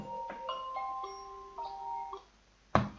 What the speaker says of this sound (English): The alarm's sounding.